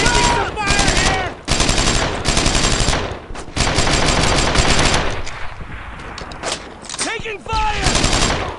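Sustained machine-gun and rifle fire in the World War II shooter Brothers in Arms: Earned in Blood, loud and close, in repeated bursts with brief lulls, while soldiers shout over the shooting.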